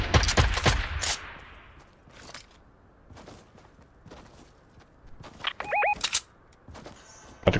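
Video game gunfire comes as scattered sharp bursts of shots at varying distances, separated by quieter gaps, with a couple of brief electronic tones near the end.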